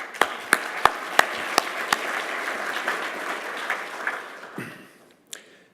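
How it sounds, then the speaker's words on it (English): Indoor audience clapping for a media company gathering, a sustained burst of applause with sharp individual claps standing out, fading away near the end to a few last claps. "also you can applaud for yourself"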